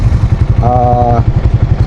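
Manual Suzuki Raider FI motorcycle engine running close by with a loud, pulsing low-pitched idle throb; a brief tonal whine rises over it midway.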